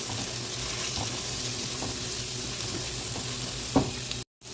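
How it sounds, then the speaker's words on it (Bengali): Ginger and garlic paste frying with turmeric in a pan for beef khichuri, a steady dense sizzle running throughout with a single faint knock near the end, followed by a brief dropout. "এখন আদা বাটা রসুন দিয়ে ভালো করে একটু ভেজে নেব"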